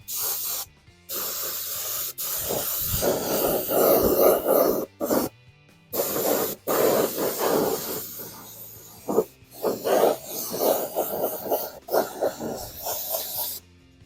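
A logo is spray painted onto a part in a single coat, with long broad hissing bursts from the spray can separated by short pauses, close and fairly loud throughout.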